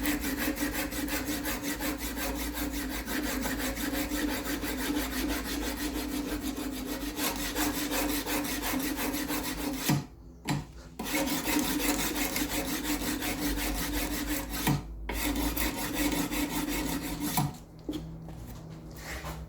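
Knife blade worked against sandpaper on a bench grinder, a continuous abrasive rasping grind held steadily and close, broken by a few brief pauses where the blade lifts off.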